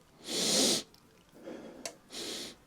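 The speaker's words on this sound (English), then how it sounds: "All right, we got to do the sniff test." Three sharp, loud sniffs taken close up at newly unboxed plastic Warhammer miniatures, with brief pauses between them and a small click in the middle.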